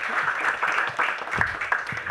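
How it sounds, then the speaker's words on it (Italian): Audience applause at a summer university lecture event on intelligence in Soveria Mannelli, Italy: a sustained wash of clapping from a seated crowd in a hall, moderately loud and steady, with a few stray louder claps. "l'applauso è meritato"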